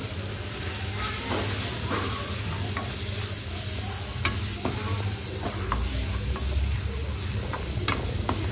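Tomato masala with red chili powder sautéing in a pan for Kala masala chicken sukka, a continuous close sizzle with stirring scrapes and sharp clicks of the spoon against the pan.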